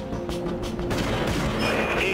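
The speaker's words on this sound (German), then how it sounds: "Die feuert nämlich immer zwei Schuss direkt hintereinander ab." A Ballista artillery cruiser in the game Dreadnought fires its two rapid back-to-back shots, loud booming blasts with a rumbling, echoing tail.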